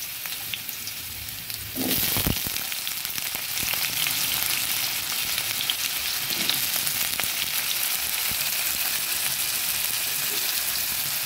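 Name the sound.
diced potatoes frying in hot oil in a kadai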